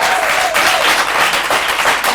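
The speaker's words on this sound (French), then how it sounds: "c'est la foule en délire" A crowd at the SACD and Scam awards ceremony gives loud, sustained applause with dense, continuous clapping throughout.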